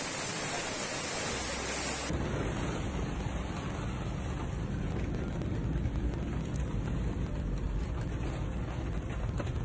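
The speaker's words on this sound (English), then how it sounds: "The storm caused damage in Asuncion and other parts of the country." Heavy storm rain with strong wind in Asuncion, Paraguay, a loud, steady roar of wind and downpour that jumps in intensity after a couple of seconds, with no distinct thunder and no voices.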